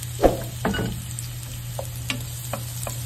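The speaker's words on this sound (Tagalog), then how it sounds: "Nagpainit na po ako ng mantika. Gisa na lang natin muna to, ha?" Garlic being sautéed in hot cooking oil, a soft steady sizzle with a few clinks and scrapes of a utensil stirring in the pan, close by and moderately loud, with no talking.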